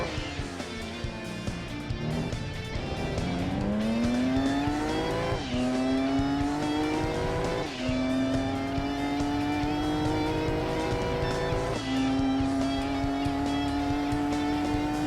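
Racing car engine in Gran Turismo 2, a Lam Edition car in an MR and 4WD challenge race, roars loudly and continuously with rising pitch sweeps through repeated gear shifts, joined by tire noise, no talking.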